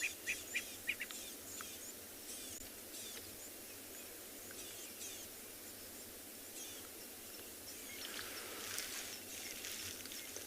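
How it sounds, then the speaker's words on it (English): Francolins and other birds call in the South African bush on a morning safari, faint and distant chirps and calls scattered over a quiet insect hum, with a few sharper notes at the start. "Sometimes that's all you hear is the birds vocalizing as the animal moves."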